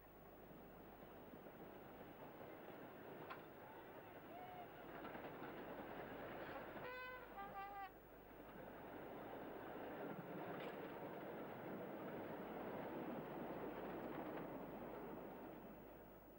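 A heavy engineless slate train rolling downhill on a twisting line rumbles and rattles continuously over the rails, with metallic squeals and brief tonal bursts breaking through the steady roar.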